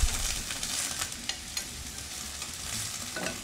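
Vegetables being stirred in a hot pan, an ongoing sizzle with repeated scraping and tossing strokes heard up close.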